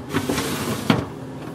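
A refrigerator drawer slides open with soft, close scraping and a light thump near the middle, quiet overall and with no talk.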